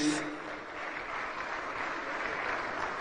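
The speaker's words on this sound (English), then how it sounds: "A round of applause for them, please." An audience at a national honours and awards ceremony gives a round of applause for the Ghana Police Band, a soft, distant, continuous patter of many hands with no talk over it.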